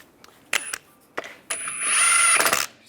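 Wheel lug bolts on a 1998-2010 Volkswagen Beetle are driven tight with a power tool: several short whirring bursts, then a longer sustained run, close and fairly loud with quiet gaps between.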